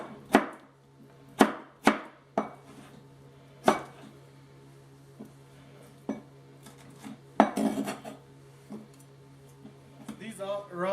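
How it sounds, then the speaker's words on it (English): A knife rough-chops produce for pico de gallo salsa on a cutting board, with a series of sharp, irregular thuds close by and gaps between strokes, under a low steady hum, and kitchen clatter toward the end. "we're just going to go kind of rough chop on that"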